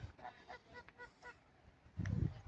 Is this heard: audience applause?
no